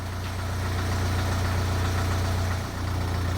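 BMW 318 diesel engine idles after a fuel filter swap, a steady low rumble with an even knocking pulse, close and loud with a brief dip near the end.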